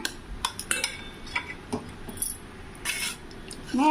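Cooked moong dal being mashed with a metal spoon in a pot for Kumbakonam kadappa, giving a string of light scraping clinks and taps at an uneven pace, close and fairly quiet.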